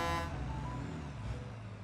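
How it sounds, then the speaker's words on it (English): A truck driving in the Satisfactory video game, its engine a steady low hum that stays fairly loud and even throughout, with no voices over it. "the truck's actually super nice"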